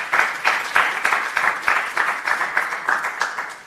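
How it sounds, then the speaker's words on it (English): A university showcase audience gives a speaker a round of applause: steady, brisk clapping from a moderate crowd, fairly close, with sharp repeated claps running through the whole stretch. "Please give her a wonderful round of applause"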